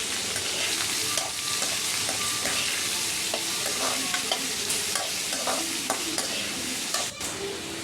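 Onions frying in oil in a pan for poha, stirred constantly: a loud, continuous sizzle broken by frequent quick scrapes and clicks of the spatula against the metal.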